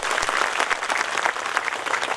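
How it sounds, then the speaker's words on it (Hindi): An audience at a stress-relief meditation gathering claps loudly together, a dense, steady burst of applause filling the room for a couple of seconds. "फिर तो जोरदार तालियां बजाइए।"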